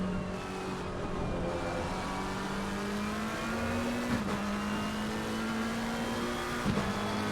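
A GT3 race car engine drones steadily at high revs at Misano, its pitch slowly climbing, with brief bursts as it shifts and passes along the track.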